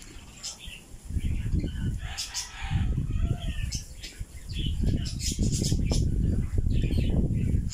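Birds call and chirp outdoors on a cool, windy morning, scattered high calls over gusty wind rumble, with a person talking at times.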